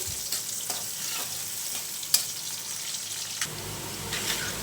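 Chopped onions fry in a pan with a steady, close sizzle, broken by stirring scrapes and a few sharper pops and clinks.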